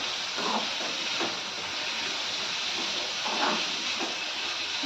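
Onions fry in hot oil for a Maharashtrian matki dal dish, a steady sizzling hiss that stays fairly even throughout, with faint soft stirring touches on top.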